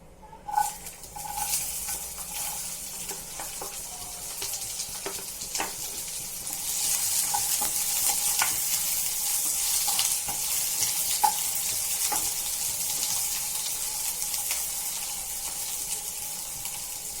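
Onion frying in a pan with cinnamon and star anise, a hissing sizzle that swells louder partway through, dotted with light scrapes and clinks of stirring, close by and without speech.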